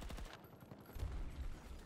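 Bursts of rapid gunfire from a shooter video game, a steady rattling fusillade with heavier thumps partway through, fairly quiet and without talk.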